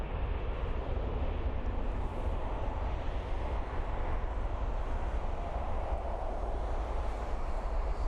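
Passenger jet taking off at Frankfurt Main Airport, a steady, fairly quiet low roar mixed with wind buffeting on the microphone, sustained evenly throughout with no speech.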